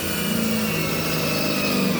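A power drill with a dull 1/4-inch bit bores into a Frigidaire dryer, giving a steady, close, grinding whine with a faint lower hum that does not let up for the whole stretch.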